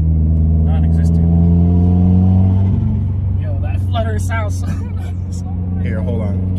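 A 300-plus-horsepower Subaru WRX engine drones loudly and steadily at high revs, its tone shifting partway through, while people talk over it inside the car.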